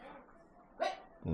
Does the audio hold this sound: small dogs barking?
yes